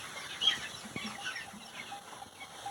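Chickens and chicks on a poultry farm cluck and peep softly in steady, moderately close ambient noise, with a few brief chirps and shuffles.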